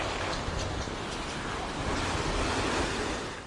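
Super typhoon winds roar on Rota Island in the Northern Mariana Islands, with heavy surf and gusts buffeting the microphone in a dense, continuous wash of noise.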